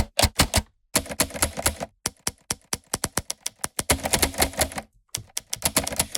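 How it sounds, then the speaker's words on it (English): Typewriter samples triggered from the King Key iPad plugin rattle out as bursts of sharp, close key strikes forming rhythmic patterns, separated by brief silent pauses, with no one talking. "This is fantastic for making rhythms and stuff like this, but you don't just get a typewriter, of course."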